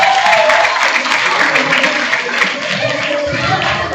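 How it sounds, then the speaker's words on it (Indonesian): A crowd claps at an Islamic youth lecture, giving a loud, dense round of applause with a voice or tone faintly riding above it that eases off slightly toward the end. "Tepuk tangan dulu buat Carolina."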